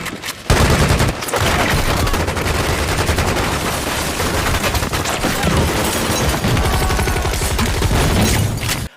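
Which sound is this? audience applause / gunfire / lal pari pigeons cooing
gunfire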